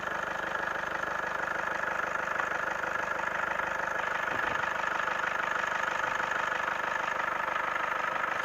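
A car engine idling steadily during a home radiator flush, a constant mid-pitched rumble with an even pulse and no interruptions.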